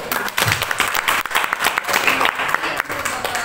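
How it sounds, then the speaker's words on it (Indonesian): An audience at an elementary school teachers' best-practice competition applauding, with dense, steady clapping from a room full of people and some voices mixed in. "Oke, kita beri aplaus."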